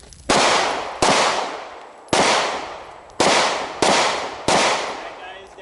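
Six sharp pistol shots crack out in uneven succession during a close-contact fighting drill, each loud report followed by a short ringing tail outdoors.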